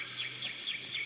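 Birds chirp and tweet in a string of short, bright calls through the intro of an exotica song, moderately faint and steady against a soft background hum.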